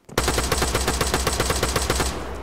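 Sustained automatic machine gun fire in the military shooter game Arma 3, a rapid, even burst of loud close shots running unbroken for about two seconds.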